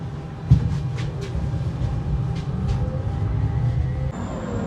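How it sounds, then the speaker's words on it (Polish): A Siemens NM6D tram in Łódź arrives with a steady low rolling rumble and faint rail clatter, a thump near the start and a thin high squeal toward the end. "Teraz jedzie trójka Siemens NM6D, wsiadamy."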